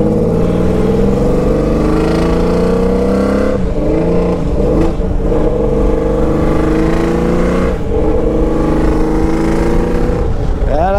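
Loud, close engine revving from a 1982 Honda CBX 1050 Super Sport inline-six wearing a homemade Atalla 6-into-1 exhaust, held high and steady with a few sharp throttle blips and dips that swing the pitch.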